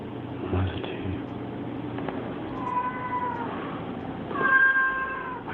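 A cat meows repeatedly in a scary video, drawn-out plaintive cries rising over a steady low background hum, moderately close.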